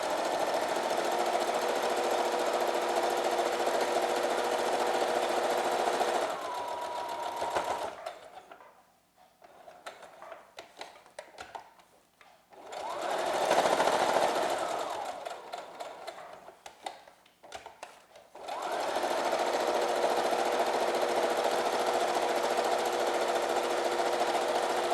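Sewing machine stitching along the edge of a fabric face mask with cloth ties, a steady motor-driven needle clatter running in long bursts, stopping briefly in the middle and then resuming, close and clear.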